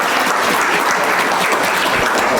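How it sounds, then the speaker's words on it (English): Crowd at a 2019 gala auction giving a round of applause, a loud continuous wash of clapping at close range with no pauses. "Give them a round of applause."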